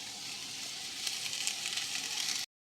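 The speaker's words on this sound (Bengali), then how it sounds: "লো ফ্লেমে পুদিনা পাতাগুলো নরম হয়ে আসা পর্যন্ত উল্টে পাল্টে একটু মিশিয়ে নিতে হবে" Potatoes and mint leaves frying in a pan over a low flame, a continuous close sizzle that grows slightly louder as they are stirred, then cuts off abruptly, with no talking.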